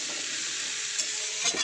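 Pumpkin pieces frying with salt and turmeric give a steady, close hiss of sizzling oil, with a couple of soft stirring clicks near the end of this short stretch.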